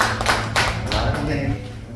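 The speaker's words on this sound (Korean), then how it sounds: "우리 좋으신 하나님께 영광의 박수 올려드리도록 하죠" A church congregation at a Friday worship service claps together in praise, uneven hand claps landing close and loud over a low sustained instrumental hum.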